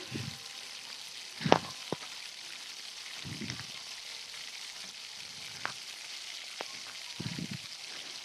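Chopped onion with salt and turmeric fries quietly in a pan, a faint steady sizzle broken by occasional soft stirring scrapes.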